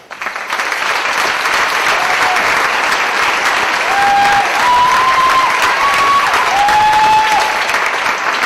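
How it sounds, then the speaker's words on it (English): Loud, sustained applause from a concert audience for choir seniors at a spring choir concert, dense clapping swelling early and holding steady, with faint voices and a few whistles or cheers mixed in. "Let's give them a round of applause."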